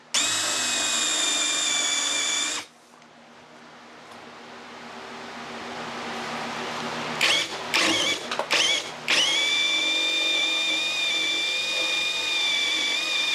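A power drill bores a hole through a wooden board for a PVC pipe storage rack, whining loudly and steadily, cutting out, stuttering in several short bursts, then running steadily again.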